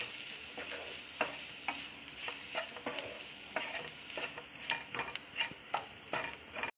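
Garam masala and chicken masala being sautéed in a frying pan, a quiet, close sizzle broken by repeated sharp scrapes and taps of a spoon against the pan in an uneven rhythm.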